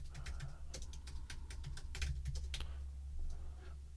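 Computer keyboard typing, a quiet, close sequence of irregular key clicks in short bursts with brief pauses, no talking.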